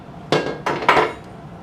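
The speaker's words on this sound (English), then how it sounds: "Just have to use a combination of pliers and patience." Metal pliers clank during a 2003 Lincoln LS electric cooling fan install on a 1999 Dodge Durango: three sharp, close metallic knocks in quick succession against a quiet background.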